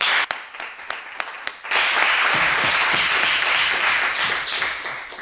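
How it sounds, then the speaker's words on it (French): A few scattered claps grow into full, sustained applause from an audience at a French parliamentary debate championship semi-final, then slowly ease off. "Des applaudissements pour la première demi-finale de ce championnat."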